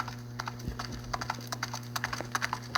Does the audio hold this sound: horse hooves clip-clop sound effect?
yes